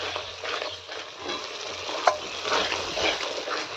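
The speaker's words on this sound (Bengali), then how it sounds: "আবারও ভালো করে মশলাটাকে কষিয়ে নিতে হবে।" Chicken cooks down with spice masala in a pan, making a continuous, close, loud frying sizzle with steady stirring and one brief metallic clink partway through.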